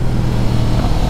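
A Yamaha FZ10 inline-four motorcycle engine runs at high RPM during a wheelie, a steady loud drone that holds smoothly for about a second.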